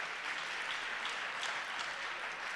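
An audience at an evening talk claps steadily and densely, a continuous wash of many hands with no break from start to finish.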